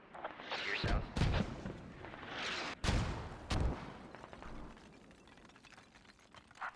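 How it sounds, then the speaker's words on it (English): Mortar fire in a military video game during an assault on a hilltop: several separate booming impacts come at irregular intervals, some close and heavy, others more distant, among ongoing battle noise with faint voices. "We're taking active mortar fire."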